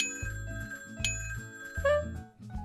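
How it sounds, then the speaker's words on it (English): A service bell dinged in the restaurant video game PlateUp!, several bright rings alongside game music, with a short cluster of chimes near the end. "Let's ding a bell."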